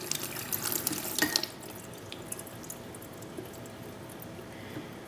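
Running tap water splashes and trickles steadily through a Lamy fountain pen feed, louder and busier for the first second and a half, then settling into a softer, even flow with faint drips.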